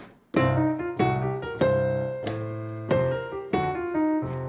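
Piano blues scale exercise in triplets: six or so struck chords with quick rolling triplet figures between them, each attack ringing and decaying, played alone at moderate volume.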